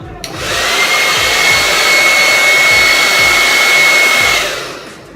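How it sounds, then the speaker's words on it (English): A blow dryer starts up and runs loudly nearby for a few seconds, a steady whooshing roar with a faint whine, then switches off. "do not shake your blow dryer."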